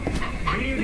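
Dog whimpering in short high whines, close by and mixed under excited chatter from girls in the room.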